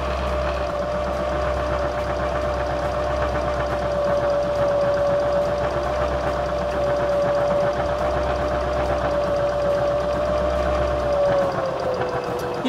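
A Baby Lock Zeal sewing machine stitches a straight row during channel quilting, giving a steady, fairly loud whirring hum that runs unbroken for about twelve seconds, then slows and winds down at the end.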